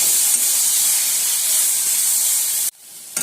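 Tomatoes dropped into a pan of golden sautéed onions for a Cuddalore-style tomato kosthu, a loud, steady sizzle that cuts off sharply near the end before a brief spatter returns.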